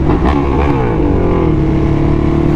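A Ducati Hypermotard fitted with a Termignoni exhaust revs hard up close, a loud throaty engine roar that climbs and holds for a couple of seconds, with no talk.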